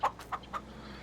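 Chickens cluck in Farming Simulator 2023 game, three short clucks in quick succession, close and clear over a quiet farm background.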